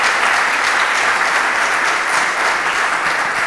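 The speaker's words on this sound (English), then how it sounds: "I think we should give him another round of applause" A festival audience applauding, a dense, loud, continuous clapping that fills the whole stretch evenly, with no voices over it.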